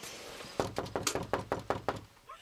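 Knocking on the door of a farmhouse near Renfrew, Ottawa area: about eight firm, evenly spaced knocks in a quick run, close and clear, with no voices.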